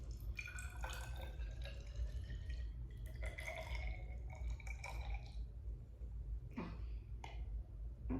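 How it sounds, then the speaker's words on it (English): Water poured into a graduated cylinder to about 25 ml, heard as a few short trickles and splashes over a steady low hum, close by and fairly quiet. "I poured a little more."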